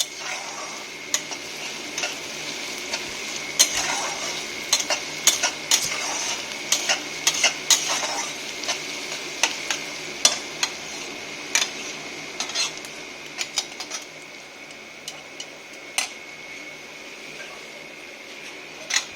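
Onions fry steadily in a pan, a continuous hiss broken by frequent sharp metallic clicks and scrapes from a spatula stirring them, with no talking.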